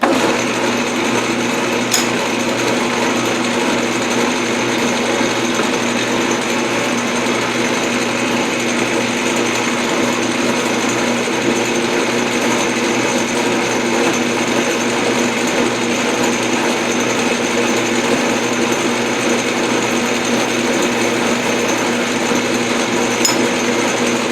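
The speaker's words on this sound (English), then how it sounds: "drill it with a tap drill to start off" A power drill runs steadily and loudly for the whole stretch, drilling a hole with a tap drill, a continuous close whirring and grinding with no pauses or talking.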